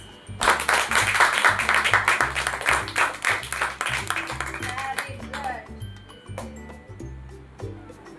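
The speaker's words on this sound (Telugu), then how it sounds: "క్లాప్స్" A group claps in a beautician's hair-cutting class, a quick run of hand claps layered over steady background music that thins out toward the end.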